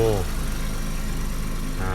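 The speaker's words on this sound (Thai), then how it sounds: "เดี๋ยวเปิดเครื่องยนต์ดูนะครับ" The six-cylinder turbo Komatsu diesel engine of a Komatsu PC200LC-8 Super Long Boom excavator idles loudly nearby in a steady chugging rumble, with someone speaking briefly over it.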